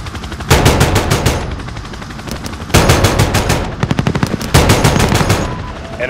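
Rapid machine-gun bursts from an aircraft gun run in Call of Duty: Modern Warfare, three long loud rattling volleys close up with brief gaps between them, no talking.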